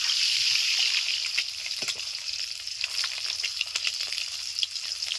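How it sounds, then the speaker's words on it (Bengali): Beans frying in oil in a home kitchen pan until lightly browned, a steady close sizzle with soft crackles and occasional stirring scrapes, no voices. "হালকা লালচে করে বিনগুলোকে ভেজে নেব"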